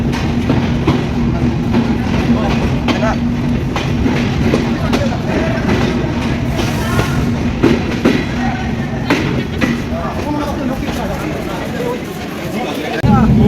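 A Chitra Express passenger train rolls into a station, a loud steady rumble with clattering wheels and rail noise throughout, with a person talking over it.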